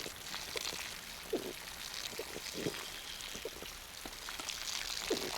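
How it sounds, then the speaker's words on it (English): A small water spring in the survival game Scum, giving a steady faint trickling wash with soft intermittent splashes and drips, fairly quiet and continuous with no talk. "If you hear water, it's one of these little water spring."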